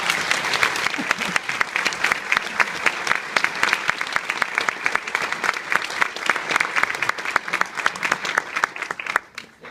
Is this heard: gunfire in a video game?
no